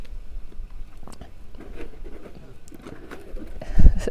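Paper wrapping is unpacked from a Japanese goods box: soft crinkles and rustles scattered through the clip, ending in a louder crumple.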